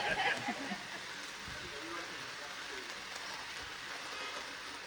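Rain falls on an outdoor music festival grounds as a steady soft hiss, with a brief louder rustle at the start and faint murmuring voices in the background.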